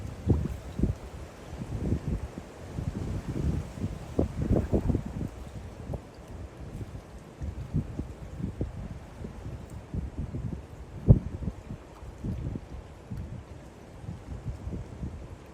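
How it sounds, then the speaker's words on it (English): Strong wind gusts at a coastal spot on Sinah Common, buffeting the microphone in irregular bursts of low rumble that rise and fall over steady background air noise. "there's a big gust coming through now."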